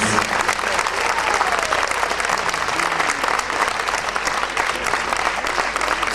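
Concert audience applause fills the space, dense steady clapping from a crowd, loud and continuous throughout.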